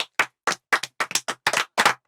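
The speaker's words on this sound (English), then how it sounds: "Clap for him." A small classroom group claps for a student who answered correctly, about a dozen sharp, close hand claps in a quick uneven burst lasting two seconds, no talk over it.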